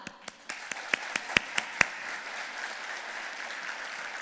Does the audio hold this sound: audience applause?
yes